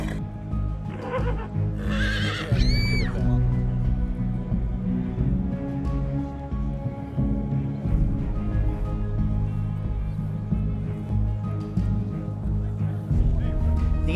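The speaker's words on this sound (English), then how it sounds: "a fan in the paddock spooked Home Journey and the horse reacted wildly" A spooked racehorse in a racecourse paddock neighs loudly near the start, a sharp rising whinny, followed by agitated shuffling and hoof movement with crowd murmur underneath.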